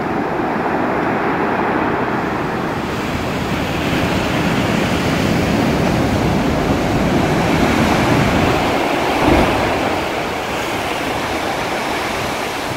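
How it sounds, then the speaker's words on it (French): Large ocean waves roll in and crash against rocks on a Madeira beach, a steady loud wash of surf with one heavier thump near the end, roughened by wind buffeting the microphone. "Et de temps en temps, une énorme vague vient frapper les rochers."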